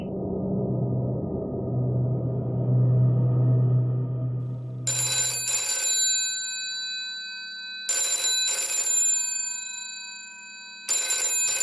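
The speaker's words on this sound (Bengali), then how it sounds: "আবার ফোন বাজলো" A telephone rings in short repeated bursts, three rings spaced a few seconds apart, loud and clear after a low murmuring rumble at the start.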